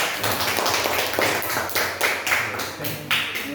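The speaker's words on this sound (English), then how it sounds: "Clap your hands." Steady, rapid hand clapping continues throughout, loud and close, with a few voices faintly mixed in.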